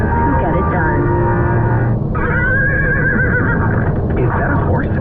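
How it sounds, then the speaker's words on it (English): A horse, a wild stallion, whinnies loudly and repeatedly in a rising and falling neigh, close and prominent over a continuous low rumble of road or engine noise. "Is that a horse? Actually, it's a wild stallion."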